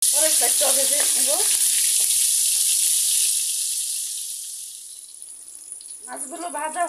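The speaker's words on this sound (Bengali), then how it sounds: "পরের সাইডটাও ভেজে নিব।" Fish frying in hot oil on its second side, a loud continuous sizzle that fades toward the end, with brief bursts of speech at the start and finish.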